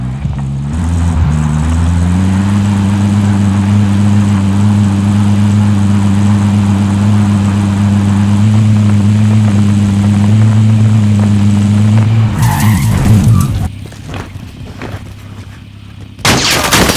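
A car engine in Call of Duty Warzone Pacific drones loudly and steadily for several seconds, then breaks into harsh skidding and crashing bursts near the end.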